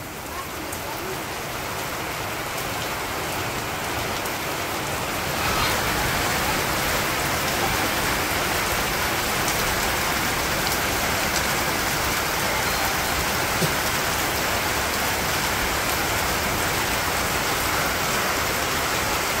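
Village rain pouring steadily onto surfaces outdoors, a dense continuous hiss of drops that grows heavier after a few seconds and then holds at an even, loud level throughout.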